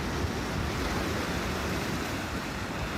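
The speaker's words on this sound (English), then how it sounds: "There's surfers out there in the waves having fun." Ocean waves breaking on a beach where surfers are out, as a loud, continuous broadband roar of surf with wind, steady throughout and with no voices.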